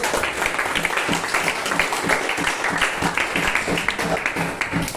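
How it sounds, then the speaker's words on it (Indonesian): Applause from a class of students for a student group after a long-jump lesson in a physical education class, a dense, continuous patter of many hands at close range for several seconds, with faint voices underneath. "Baik, tepuk tangan untuk"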